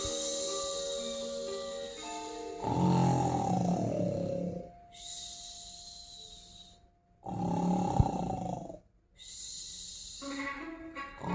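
The Gruffalo snores in long, deep, rasping breaths, three drawn-out rumbling snores separated by quieter pauses, heard alone over soft background music.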